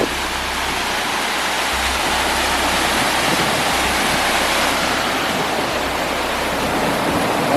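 Steady, loud rush of a waterfall running under a bridge on Lake Superior's North Shore, a dense broadband roar continuing unbroken throughout, with a low rumble underneath.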